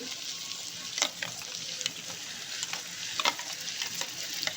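Chicken karahi sizzles in a pan as yogurt goes in, with steady frying hiss and scattered stirring scrapes and clinks, close and fairly loud with no talking.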